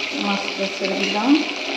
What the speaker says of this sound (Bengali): মাছটা ছেড়ে দিলাম